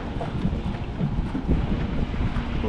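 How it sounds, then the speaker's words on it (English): Wind gusts across the water beside a dock on a lake in Winter Park, Florida, producing a loud continuous buffeting rumble on the microphone that fills the whole moment. "A little tricky with the wind."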